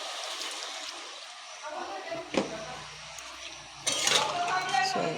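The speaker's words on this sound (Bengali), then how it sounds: "আর একটু জল দিয়ে দিই" Water poured into a pan of home-style fish and potato curry, a running splash that swells louder toward the end, with light clinks of cookware and a voice speaking over it.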